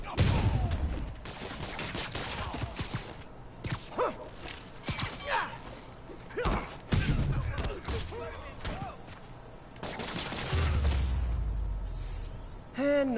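Enemies fire guns in Spider-Man on PS4, scattered bursts and volleys of shots mixed with impacts and whooshes across a busy fight, with a voice talking at times.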